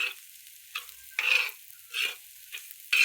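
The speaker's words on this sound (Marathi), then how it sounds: "असं तेलात चांगलं परतायचं" Green chillies and peanuts fry in oil for a peanut chutney, giving a soft hiss with several crisp bursts of sizzling as they are stirred and tossed.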